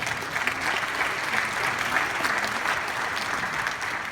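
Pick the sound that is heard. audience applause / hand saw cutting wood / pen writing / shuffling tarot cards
audience applause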